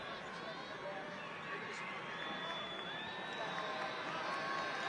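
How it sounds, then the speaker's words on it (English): Modest crowd murmuring and chattering in an arena at a college basketball game, Montana State Bobcats at Colorado, before a free throw; a steady, moderate hubbub of voices with scattered calls and whoops, no single voice standing out. "Modest crowd here today."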